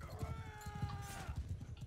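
Horse hooves clip-clopping in Mount and Blade II: Bannerlord, a rapid, steady galloping rhythm close by, layered over a sustained tonal battle drone with no talk.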